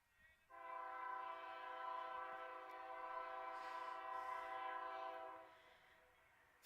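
A passing train sounds one long, steady horn blast lasting about five seconds, clear but somewhat distant, heard from a baseball park in Haysville during a game.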